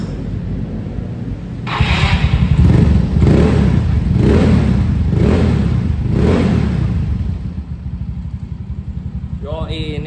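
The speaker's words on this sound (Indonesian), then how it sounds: "Nah coba nih kita lepas untuk apa namanya peredam yang di ujung knalpot." A Yamaha Mio scooter fitted with a PDW racing exhaust, its end silencer removed, revs in several loud rising bursts from close by, with a steady idle rumble between them.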